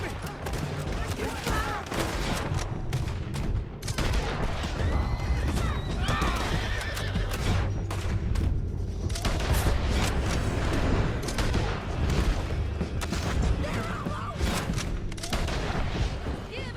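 Rapid gunfire in a Red Dead Redemption 2 shootout with riders on horseback: dense, loud overlapping shots and volleys with horses whinnying and hooves clopping, under frequent shouting voices.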